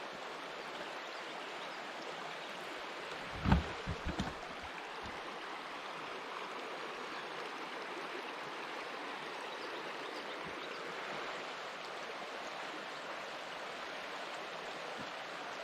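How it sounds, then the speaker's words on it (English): A clear brook flows steadily nearby, a soft continuous rushing wash with a brief knock early on and no voices. "The brook is like crystal."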